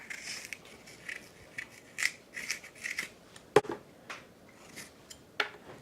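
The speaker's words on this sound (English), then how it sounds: "what I'm going to do is I'm going to cut the core out." Fresh apples having their cores cut out, heard as crisp, crunchy cutting strokes and short snaps that come irregularly and close up, with no one speaking.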